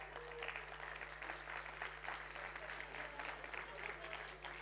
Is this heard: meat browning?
no